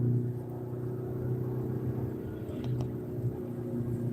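A car engine in sport mode, heard as a steady, fairly quiet low rumble and drone that holds through the whole stretch with little change in pitch.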